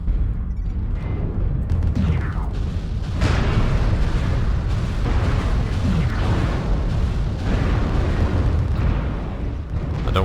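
Missiles exploding in the MechWarrior Online video game, a dense barrage of loud overlapping booms and bursts rumbling continuously throughout with no pauses.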